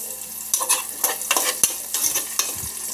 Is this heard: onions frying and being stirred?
yes